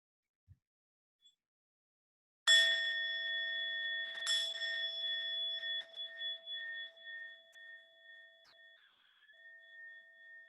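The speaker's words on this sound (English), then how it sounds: "allowing this practice to come to an end with the sound of the bell" A meditation bell is struck twice a couple of seconds apart, each clear metallic ring sustaining and slowly fading over several seconds in a quiet room.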